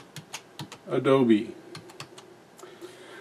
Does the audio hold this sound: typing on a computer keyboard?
yes